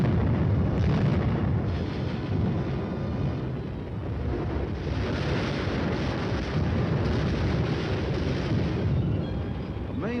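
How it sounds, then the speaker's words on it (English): An artillery barrage fires on an enemy strong point, a dense, continuous rumble of booming blasts layered over one another, heavy and loud throughout with no clear gaps. "At the Artillery Fire Direction Center, the firing data is prepared and the guns respond."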